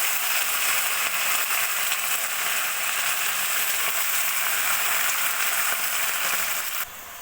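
Spinach hits a pan of frying potatoes and sizzles in a steady, loud hiss that continues evenly, then drops abruptly at the end.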